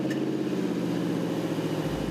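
A mobility van with its catalytic converter cut off runs at a steady idle, its exhaust giving a loud, raw, continuous low drone close by.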